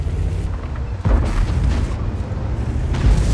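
A heavy tank cannon fires in World of Tanks as the Nergal heavy tank shoots, a loud deep boom followed by rumbling battle noise and engine drone, with a second heavy thump near the end.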